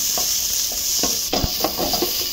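Chopped onion browns in a frying pan with a steady, close sizzle, while a utensil stirs it in a few soft, irregular scrapes and taps, and nobody talks.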